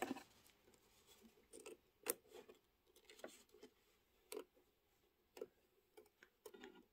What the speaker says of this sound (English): we are going to go ahead and just trim it close to the stitch